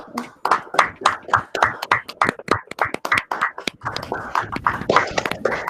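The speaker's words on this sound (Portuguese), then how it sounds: "a gente pode aplaudir, viu?" A small audience in an online class claps in loose, uneven bursts. The close, sharp individual hand claps overlap irregularly throughout without settling into a steady rhythm.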